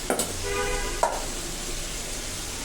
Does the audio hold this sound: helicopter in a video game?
no